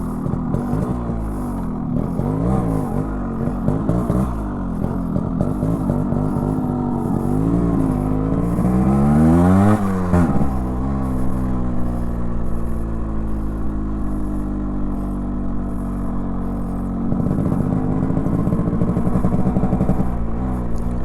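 A Yamaha RXZ 5-speed motorcycle with a loud stock exhaust rides steadily and loudly for about twenty seconds, its engine note rising and falling through gear changes and throttle blips, with no talking.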